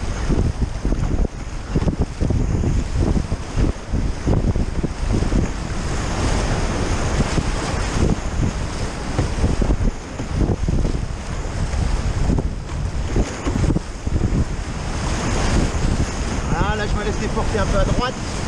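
Rapids and standing waves on the Vézère river near Treignac, a steady loud rush of churning whitewater with wind buffeting the microphone throughout.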